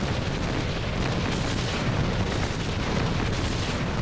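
Artillery barrage in the Titanfall Assault video game, a dense continuous rumble of overlapping explosions and booms, steady and loud throughout with no talking.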